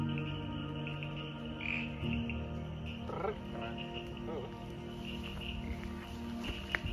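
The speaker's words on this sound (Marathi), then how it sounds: "आणि रात्रीच्या किर्र अंधारात कोरस मध्ये ओरडणारे बेडूक" At night in the Amboli rainforest, a chorus of frogs croaks continuously and densely in layers, joined by insect trills, with no pause across the clip.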